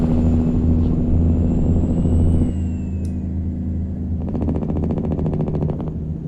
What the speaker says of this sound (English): Honestly, I think this engine sounds better with the windows rolled